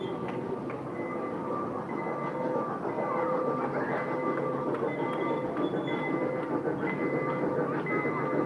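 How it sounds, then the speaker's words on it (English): A mini train in Jerusalem rolls in with a steady, close rumble of wheels on rail, thin metallic squeals rising and falling over the drone throughout; no one speaks. "You see the mini train coming in"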